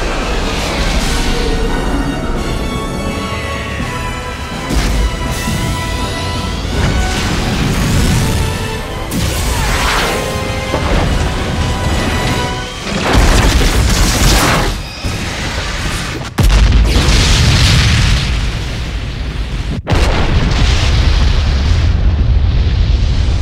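A space station blows apart in the Descent 3 ending cinematic: a loud run of deep booms and crashing blasts with rumbling debris, ending in several sharp, heavy detonations.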